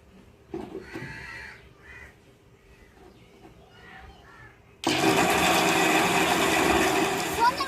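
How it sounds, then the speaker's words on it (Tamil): A few seconds of quiet background sounds, then a mixer grinder grinding masala with water starts up loudly with a dense, continuous whirring roar. "மிக்சியில் அரைச்சி எடுத்துக்கிறோங்க"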